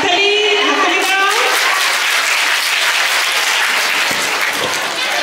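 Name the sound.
audience applause at school prize giving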